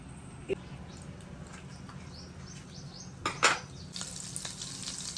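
Butter and oil sizzle in a hot pan, the start of pan-cooked veg Mexican tacos. A soft, steady frying hiss runs throughout, with a few sharper clinks and spits.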